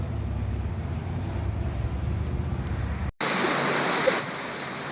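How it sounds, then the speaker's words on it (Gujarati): Heavy rain pours down onto a courtyard that is filling with water, a dense and steady hiss that cuts out briefly near the end before resuming in a brighter, thinner rush. "ધોધમાર વરસાદ આવવા માંડ્યો છે ને કે આમ ફળિયામાં જો બધે પાણી ભરાઈ ગયા છે અને બહુ જ વરસાદ આવે છે"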